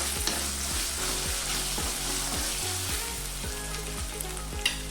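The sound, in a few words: frying ginger garlic paste for chicken handi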